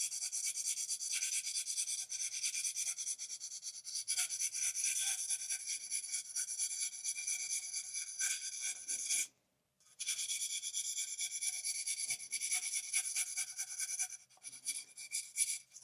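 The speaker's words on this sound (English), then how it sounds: "So now I'm just going to take my sandpaper and we are just going to smooth out the edges on the outside." Sandpaper rubbing back and forth along the freshly cut edges of carbon-fibre bicycle handlebars, a steady close-up rasping scrape that continues almost without pause apart from one brief break.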